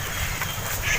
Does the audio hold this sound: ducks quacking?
yes